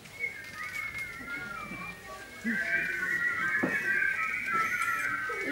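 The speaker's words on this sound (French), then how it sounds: "Il siffle." A boy whistles a wavering, sliding tune, soft at first and then louder and steadier in the second half, with faint background noise and occasional light knocks.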